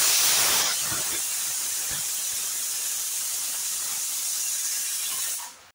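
Asafoetida hits hot oil with a sharp burst of hissing that settles into a continuous sizzle, holding steady for several seconds before cutting off abruptly.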